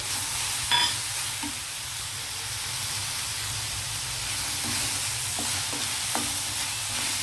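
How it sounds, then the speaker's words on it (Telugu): Raw shrimp fry with onions in a pan, giving a steady close hiss and sizzle with a few light clicks of stirring, continuous throughout with no talking. "ఇప్పుడు మనం కొంచెం ఈ రొయ్యలు ఇందులో వేసేసి వేగనిద్దాం"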